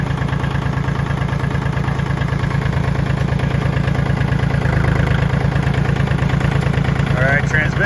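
A Kubota L2250 tractor engine idles loud and close in gear, a steady rhythmic diesel chug that runs unbroken the whole time.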